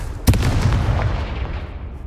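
The Confringo blast spell in Hogwarts Legacy goes off as a single loud, sharp boom. A deep rumbling tail fades over about two seconds, with no speech.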